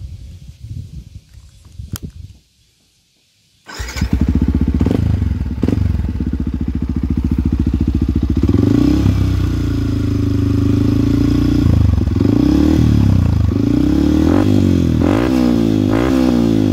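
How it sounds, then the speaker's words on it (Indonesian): Yamaha WR155R motorcycle with a modified exhaust, engine starting after a brief quiet moment, then idling loudly up close with several sharp throttle blips and revs. "Ini kalau yang mau dengar suara knalpotnya."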